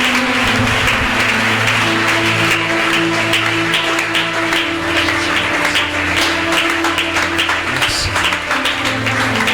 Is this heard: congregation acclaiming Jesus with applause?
yes